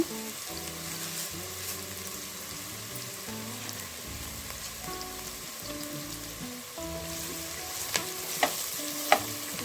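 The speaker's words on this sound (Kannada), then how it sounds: "ಒಂದು ಸಣ್ಣ ಅದು ಒಗ್ಗರಣೆ ಹಾಕ್ಕೊಳ್ಳೋಣ" Tempering spices sizzling in oil for Mangalorean chicken sukka, a soft steady crackle with stirring, quiet and close, with a few sharp pops near the end.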